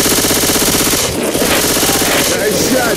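Sustained automatic gunfire in the zombie shooter Left 4 Dead 2, a dense continuous rattle of shots with short gaps as firing pauses, loud and close throughout.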